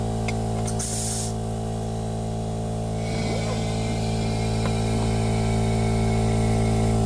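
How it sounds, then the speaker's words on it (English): Air compressor running steadily with a pneumatic air tool fitted with a 2-inch 3M abrasive disc while cleaning a Toro TimeCutter 50-inch mower; a brief hissing burst near the start, then continuous hum and buzz throughout. "I'm using my air tool and a 2-inch Brillo, a 2-inch 3M disc on it."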